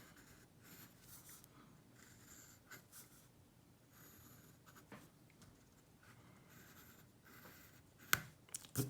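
A pencil scratches and rubs across paper during a 3D drawing lesson, a faint, continuous scratching with short strokes and a few sharper taps near the end.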